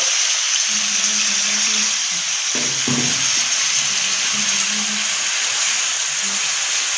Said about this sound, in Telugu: ఆయిల్ హీట్ అవుతానే ఈ టమోటో వేసేద్దామండి